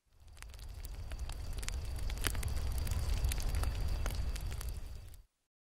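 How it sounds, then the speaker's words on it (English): Campfire at a campsite burning steadily: a continuous low roar with scattered sharp crackles and pops, moderately close, then cutting off abruptly. "the fire's been started without my help"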